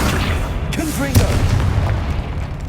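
A Confringo blasting spell goes off in Hogwarts Legacy, a single deep booming explosion over a steady rumbling game backdrop, with a voice speaking around it.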